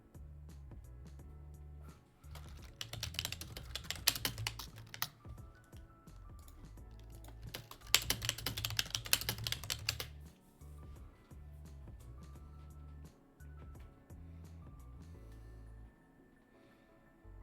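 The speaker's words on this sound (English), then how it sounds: "sorry if you hear me typing" Bursts of rapid clicking keystrokes on a computer keyboard, two dense flurries of typing close to the microphone over a low steady hum.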